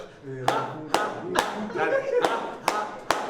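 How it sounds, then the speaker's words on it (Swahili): A football team's players clap in unison during a pep talk, about seven sharp, evenly spaced group claps ringing out close by, with voices calling between them. "Twende makofi 3 tu ya Coast"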